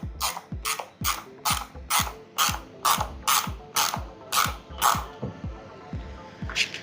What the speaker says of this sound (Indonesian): Pakai kunci 8 ya untuk memutar si baut ininya, levelingnya tuh, baut pivotnya ya.